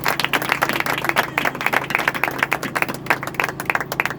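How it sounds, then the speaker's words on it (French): Audience at a graduation ceremony applauds the top graduate of the class, a dense spread of many hands clapping in a quick, irregular patter that holds steady at close-to-moderate distance. "Applaudissez-la encore une fois."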